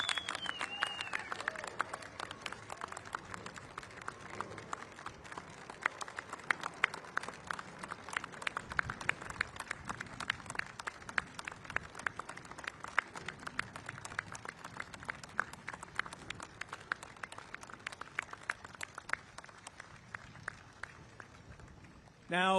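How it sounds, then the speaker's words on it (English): A crowd applauds World War II veterans at an outdoor V-J Day commemoration at the National World War II Memorial in Washington, D.C.; the sustained clapping sounds faint and distant, and a voice speaks over it. "One more round of applause for all our World War II veterans"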